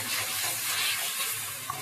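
Mushrooms fry and sizzle in a pan as they are stirred with hot and sweet sauce for chilli paneer chowmein, a steady close hiss with faint scraping throughout.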